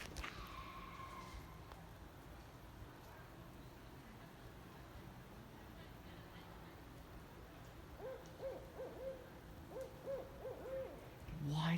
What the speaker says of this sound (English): Why does that owl sound so close?